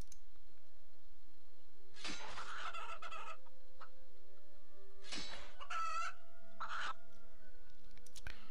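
Chicken clucking in the video game RuneScape: a few short bursts of clucks spaced a couple of seconds apart over a quiet, faintly humming game background.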